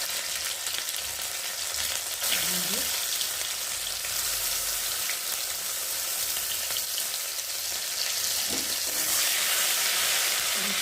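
A masala of spices, ginger and garlic fries in oil in a pan while cooking green jackfruit. The sizzle is steady and close, with occasional stirring scrapes and no talk.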